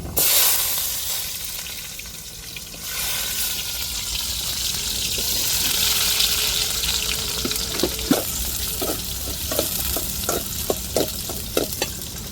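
Onions crackle and sizzle in hot oil with fenugreek and mustard seeds, a steady close hiss joined in the second half by a series of sharp spoon clicks against the pan.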